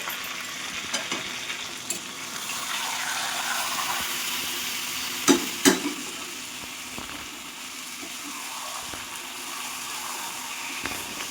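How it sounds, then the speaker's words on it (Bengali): Mutton fries and sizzles in a pan over a medium flame with a steady hiss, while a spoon stirs and scrapes it in a few louder clinks and knocks. "মাংসটা ভালো করে নাড়াচাড়া করতে হবে।"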